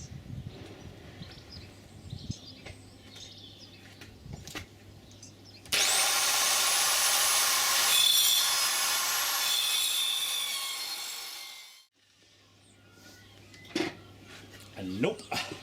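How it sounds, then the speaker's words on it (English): A mini circular saw cuts through a big, hefty chunk of wood in a steady, loud burst of several seconds that winds down at the end, with softer handling noises and quiet talk before and after. "I'm going to just use my wee little saw, mini circular saw."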